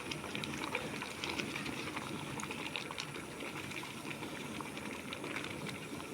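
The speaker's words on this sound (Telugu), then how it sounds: "చూడండి ఎంత చక్కగా ఉడుకుతుందో" A pot of semiya kesari, vermicelli sweet, simmering on the stove makes a soft, steady bubbling with small pops, faint and continuous throughout without any voices.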